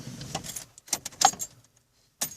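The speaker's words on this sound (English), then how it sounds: "You'll hear the car cycle, and then you just turn your ignition off" Keys on the ignition of a 4th-generation Eclipse jangle in several short, bright metallic bursts as the ignition is switched off, close and fairly quiet, with brief gaps of near silence.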